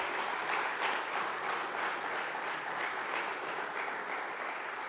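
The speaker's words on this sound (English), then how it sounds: "I hope you hear the clapping of the audience, so the audience seemed to enjoy." An audience applauds after a scientific talk, steady dense clapping of a sizeable crowd heard evenly throughout, fairly quiet and unbroken, with no voices on top.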